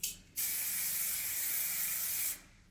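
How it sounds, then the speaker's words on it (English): One steady hiss of hairspray sprayed onto a woman's freshly back-combed haircut, lasting about two seconds, close and fairly loud, with no voices over it. "Just gonna spray that."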